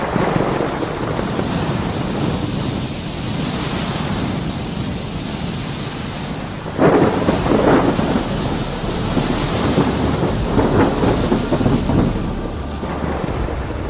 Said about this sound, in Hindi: धीरे धीरे तूफान और तेज होता जाता है और जहाज डूबने लगता है